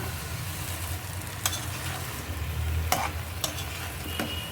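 Beans, potato and eggplant sizzle in hot spiced oil in a pan, a steady fry hiss broken by a few sharp stirring scrapes and clicks.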